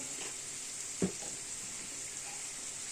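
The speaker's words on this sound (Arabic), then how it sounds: "حطيت البصل ياخد تتبيل، يدبل بس شويه" Onion sautéing in a pan makes a constant, even hiss of frying, close and fairly loud, with a single short knock near the middle and no voices.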